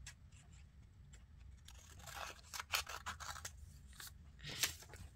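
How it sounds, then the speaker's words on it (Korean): Scissors snip through paper for a tiny miniature blueberry Pepero craft, giving a series of close, crisp cuts and scrapes that come in uneven bursts, louder near the end, with no talking. "가위로 잘라주고 그려줄게요"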